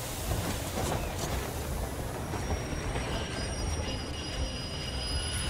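A train rolls along the tracks in the post-apocalyptic game Metro Exodus, a loud, steady rumble with wheel noise and faint squealing that carries unbroken through the whole stretch, with no voices over it.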